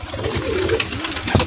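A wild pigeon gives a soft, low coo, close and clear over faint background noise, the call rising and falling once before a short sharper note at the end.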